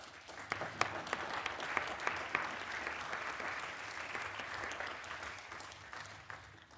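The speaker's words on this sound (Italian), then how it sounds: "And the applause may show that we really appreciate that." Sustained applause from a large parliamentary assembly during an extraordinary plenary session, a dense steady clatter of many hands with a few sharper claps standing out, continuing evenly throughout.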